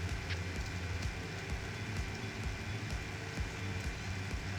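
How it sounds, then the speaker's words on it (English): Rain falling in Farming Simulator 17 with the Seasons mod, a constant hissing patter of drops on surfaces with faint scattered ticks, steady and moderately loud, no speech. "Yeah, it's raining here."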